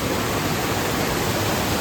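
A waterfall at Mangeli Deulwadi during the rainy season, a steady dense rush of falling water close by, loud and unbroken with no voices.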